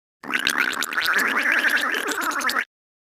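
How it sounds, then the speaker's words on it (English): Someone gargles close up for about two seconds, a wet, bubbling burble that starts and stops abruptly. "gargle"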